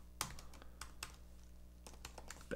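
Quick keystrokes on a computer keyboard while entering a terminal command on an Ubuntu 20.04 server, a scattered run of crisp, close taps with a short pause midway and no talking.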